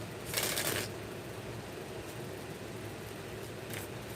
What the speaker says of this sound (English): Last shuffle for single Taurans.